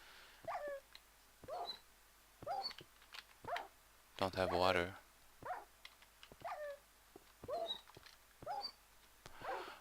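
Video game dog whimpers and whines repeating in short bursts at a fairly regular pace, with a longer, louder cluster in the middle; a person talks briefly over the sounds.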